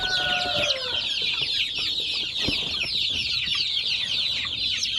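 One-month-old Shamo Aseel chicks clucking and peeping in a coop, a dense, continuous chorus of high chirps with a few lower clucks mixed in, close and lively.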